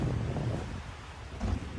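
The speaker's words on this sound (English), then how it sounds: "Take in some of the quieter rain sounds." Light rain falls on a Toronto city street, a steady, soft broadband hiss with low rumbling background, continuous throughout with no voices.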